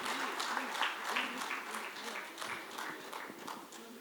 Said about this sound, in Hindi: तालियों के साथ स्वागत कीजिए, हम आपको सुनने के लिए आतुर हैं।